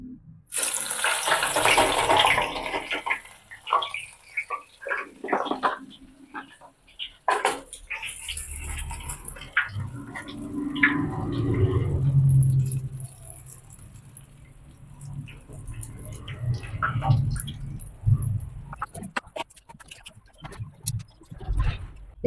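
Cheese steak fries in a new Rossetti deep fryer, giving a loud, steady hiss and bubbling of hot oil that swells and settles over the whole stretch, with scattered clatter nearby.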